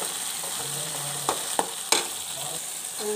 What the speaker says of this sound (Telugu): సాల్ట్ వేసి కలబెట్టుకుంటున్నాను.